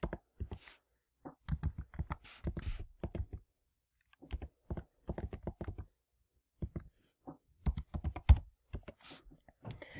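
A web address is typed on a computer keyboard in quick clusters of crisp, close key clicks, separated by short silent pauses.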